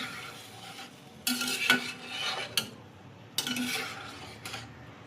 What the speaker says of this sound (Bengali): ঝোল দেওয়া পুরো কমপ্লিট, ভালো করে নাড়াচাড়া করে দেবো।